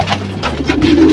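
Breeder pigeons coo close by, a short soft burst of low, throaty murmuring calls.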